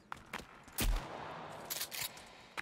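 Gunfire in the survival game Sons of the Forest, a few sharp shots spaced apart including one loud close report, fairly quiet overall with faint background ambience.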